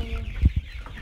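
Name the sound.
improved free-range chickens clucking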